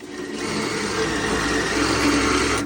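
A power drill with a large bit bores a hole into a steel mailbox column, giving one loud, steady whirring grind that runs unbroken for a few seconds before cutting off.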